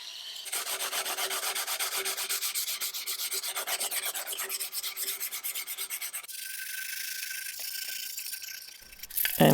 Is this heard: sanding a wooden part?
yes